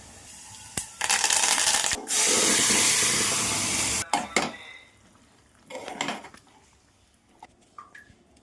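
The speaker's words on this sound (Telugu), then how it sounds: "ఆయిల్, ఉల్లిపాయలు, తాలింపు గింజలు, జీలకర్ర, చిన్నుల్లిపాయలు ఇలా దంచేసుకుందాం" Clanking metal bangs and scraping from pounding onions, small onions, cumin and seasoning seeds for a dal tempering with oil, two long sustained bursts, then sharper irregular knocks and clinks, close and fairly loud.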